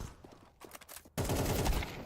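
Gunfire in the Counter-Strike 2 match, opening with a few scattered shots and footsteps before a sudden loud, dense burst of rapid automatic fire that fills the rest of the clip.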